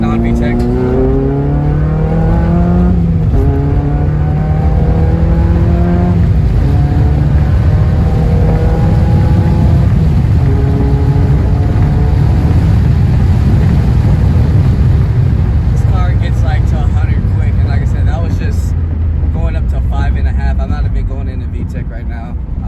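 A Toyota MR2 Spyder fitted with a K24 engine accelerates hard through the gears without VTEC engagement, its loud, close engine note climbing and dropping between shifts before easing off near the end.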